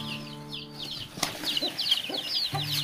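Chickens and young chicks released outdoors: close wing flapping and scuffling mixed with soft clucks and thin high peeping chirps, alongside a steady background hum.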